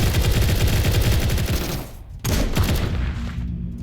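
Rapid SMG gunfire in the video game Sector's Edge, a dense continuous stream of shots that pauses briefly and then resumes just as loud.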